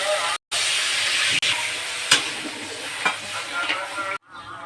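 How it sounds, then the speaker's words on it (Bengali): Water is poured into spice masala already fried down in a pan for Bengali rui fish bhuna, and it sets off a loud, steady hissing sizzle with a few sharp pops and brief breaks in the sound. "মশলা কষানো হয়ে গেছে এখন আমি দিয়ে দেব জল"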